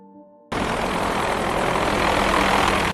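After a brief quiet moment, a loud, steady helicopter roar abruptly starts and fills the clip with constant rotor and engine noise.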